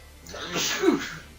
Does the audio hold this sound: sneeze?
yes